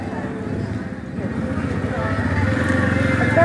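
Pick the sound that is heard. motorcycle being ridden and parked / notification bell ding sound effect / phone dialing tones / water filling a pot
motorcycle being ridden and parked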